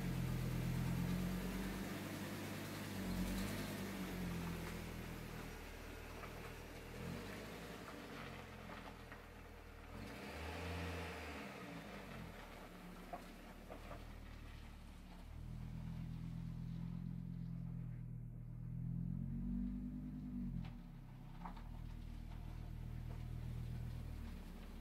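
Audi 200 engine running after a Liqui Moly Engine Flush Plus treatment, a steady low idle with occasional revs rising and falling, fairly close and unaccompanied by talk.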